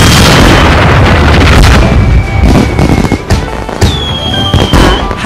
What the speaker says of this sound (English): Dora is going to produce the fireworks